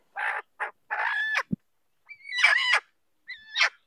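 A hen said to have stopped laying eggs, suffering from gas, fever and a cold, gives a series of short, harsh clucks and squawks in separate bursts with brief silences between them, close and fairly loud.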